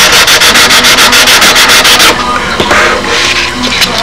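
An aircraft engine cowling is sanded by hand, with loud, rhythmic rasping strokes up close, about a dozen quick back-and-forth passes, followed by softer scraping and light handling.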